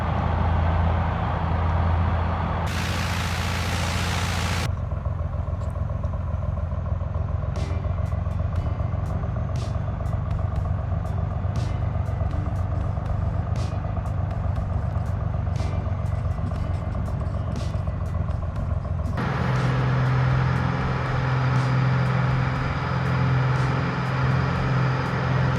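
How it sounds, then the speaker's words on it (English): Carenado Cessna piston engine running in Microsoft Flight Simulator 2020, a steady droning hum with a constant low tone throughout, brief shifts in pitch and level near the start and again toward the end. "I like the sounds of the engine."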